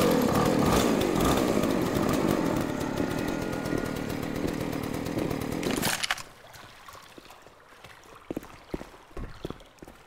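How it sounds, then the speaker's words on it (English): A chainsaw in the video game Left 4 Dead 2 roars loudly and steadily for about six seconds, then cuts off, leaving quieter scattered clicks and thuds. "Got a chainsaw."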